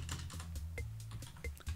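Someone types on a computer keyboard while coding HTML, producing a quick irregular run of soft key clicks close to the microphone over a low hum, with no talk.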